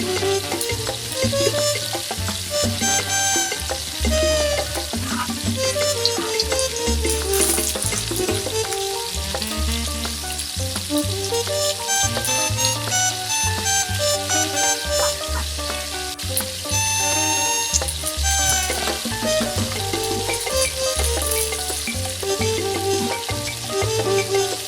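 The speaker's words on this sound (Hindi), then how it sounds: "लो फ्लेम पे इसलिए पका रहे हैं ताकि जो हमने जो तय लगाई है वो अंदर तक हमारी पक जाए" Roti cooking in a pan over a low flame gives a steady, close frying sizzle throughout, with occasional light scraping and stirring noises and no voices.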